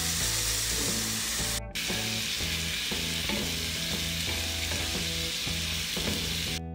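Paprika, turmeric and tomato sizzle and fry in a pan, a steady close hiss broken by soft scraping stirs, cut by a brief gap partway through, with no voices.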